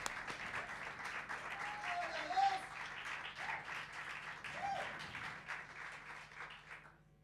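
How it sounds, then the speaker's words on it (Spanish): An audience applauds at a live music show in a bar, with dense clapping that swells and slowly fades over about seven seconds, while a few cheers and voices rise faintly through it. "Un aplauso para Paz."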